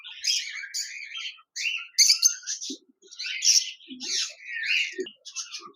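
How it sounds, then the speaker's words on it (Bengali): A pair of lutino lovebirds in a cage give shrill, rapid chirps and squawks in close, repeated bursts with brief pauses between them. "এখানে দেখতে পাচ্ছেন এক জোড়া লুটিনো অফলাইন লাভবার্ড পাখি রয়েছে"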